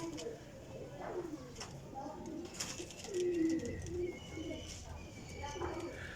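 Teddy pigeons cooing in soft, repeated low calls, with other birds chirping faintly and a person talking nearby.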